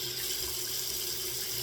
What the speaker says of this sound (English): let me rinse off real quick